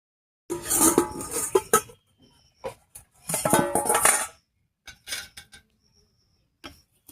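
A cooking pot lid lifts off a pan of potol and chhana curry, with a few bright metallic clinks and knocks of dishes in separate short bursts, close by and with no voices.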